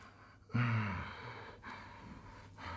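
A deep breathing exercise in a Contrology session, one sharp audible inhale followed by a slower, breathy exhale heard close and quiet, with no speech.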